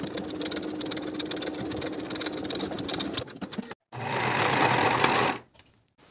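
Dress side seams sewn on a sewing machine with a 1/2 inch seam allowance, a close, continuous rattling hum that pauses briefly, then resumes in a second short burst and stops.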